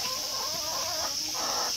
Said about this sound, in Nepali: यो कुखुराले रौसी खुवाइदिएको नाचिरहेछ है।